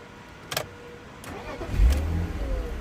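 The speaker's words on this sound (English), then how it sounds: "now I'm going to cycle the ignition again, start the engine" A BMW 323Ci E46 engine with a poor running and stalling fault is cranked after a few clicks, catches with a low rumble, and settles into a steady idle nearby.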